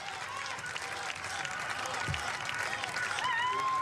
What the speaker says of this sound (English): Listen to the chants for Toprak as well amongst the Spanish crowd.